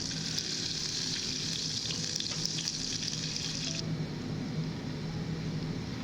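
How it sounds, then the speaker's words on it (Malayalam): Unsalted butter melting in a saucepan for a bechamel sauce gives a steady, close sizzle and gentle frying crackle, with a bright hiss that drops away near the end and no voices. "ഒരു സോസ് പാനിലേക്ക് 90 ഗ്രാം ബട്ടർ ചേർത്ത് കൊടുക്കാം"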